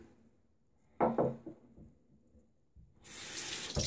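A tap runs briefly to rinse a shaving brush at a sink. There is a short splash of water, a quiet pause, then a louder steady rush of running water toward the end, with no speech.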